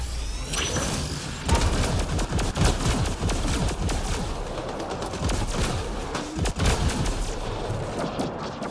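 Dense, continuous bursts of sci-fi weapon fire from a gun in the video game Mass Effect: Andromeda, rapid overlapping shots with sharp cracks and booming impacts throughout, loud and close with no talking.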